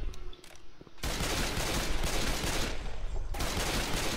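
Gunfire in Left 4 Dead 2 sounds as a dense, loud, continuous burst of shooting. It starts suddenly after a quiet opening and rolls on for about two seconds before dropping briefly, then resumes.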